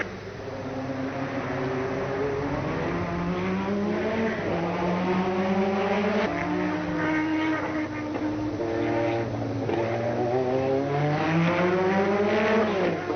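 The rotary engine of a Mazda 787B race car screams at Le Mans in 1991, rising and falling repeatedly through gear changes, loud and continuous as cars race past.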